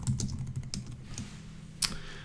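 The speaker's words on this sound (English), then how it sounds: "So let me type this out." Quick bursts of computer keyboard typing, close and fairly quiet, with irregular clusters of keystrokes and a sharper tap near the end, no voices.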